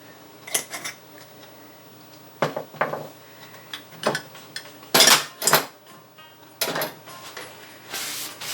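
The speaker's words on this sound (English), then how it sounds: "we're just going to give that a nice stir after we sprinkle on some cayenne pepper" Mango pineapple salsa with a sprinkle of cayenne stirred in a bowl, close clinks and scrapes of a utensil against the dish in irregular bursts with quiet gaps between.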